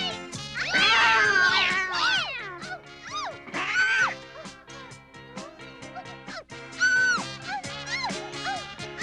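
Cartoon cat meowing and yowling in an animated City Mouse Country Mouse tale, several drawn-out, sliding meows and caterwauls over music, loud and close, without speech.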